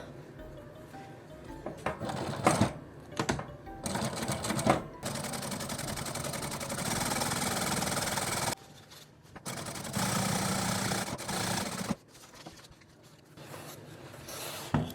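A sewing machine stitches a zipper onto the back seam of a dress in a home workroom, running in bursts of rapid mechanical whirring separated by pauses and small handling clicks.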